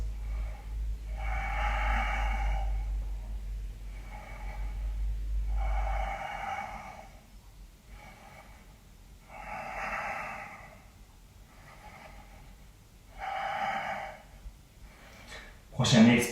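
Slow yoga breaths held in crow pose (Bakasana) during a vinyasa flow: about five audible breath cycles, soft, close and evenly spaced, with a low hum at the start and a brief louder rustle at the end.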